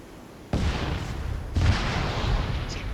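Two heavy rocket blasts in a military video game, each a sudden loud broadband boom with a rumbling tail. They sit about a second apart, the second slightly stronger, over continuous battle noise.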